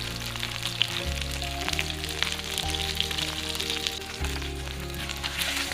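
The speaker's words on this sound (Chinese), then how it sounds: "先将鱼皮朝下煎至金黄" Fish head frying skin side down in hot cooking oil over medium heat, a steady, even sizzle and crackle running throughout at moderate level, with a low hum underneath and no voices.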